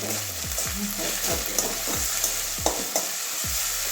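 Ground coriander and cumin fry in a pan, a steady close sizzle broken by repeated scraping stirs of the spatula every half second or so, with no voices.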